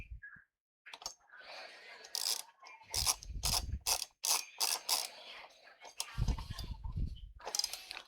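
Bike tools ratchet in quick, close metallic clicking bursts while tightening a part of an OOKAS air fryer under repair, with several pauses and a few soft handling knocks between runs.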